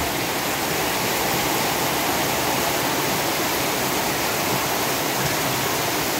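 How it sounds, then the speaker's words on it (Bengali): Heavy rainwater rushes through a village in Bogra's Shibganj area during a downpour, a dense continuous roar of flowing water and rain, loud and unbroken throughout. "প্রচুর পানি চলতেছে।"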